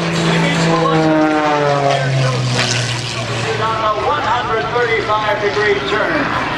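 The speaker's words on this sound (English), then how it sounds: "Up to the vertical goes Skip on your right." Aerobatic propeller aircraft of the Tinstix of Dynamite team performing at the 2014 Cleveland National Air Show, a loud droning engine with shifting pitch as it climbs, under an announcer's commentary.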